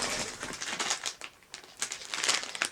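An advent calendar gift being unwrapped gives close, busy paper crinkling and rustling in irregular bursts, with no talking.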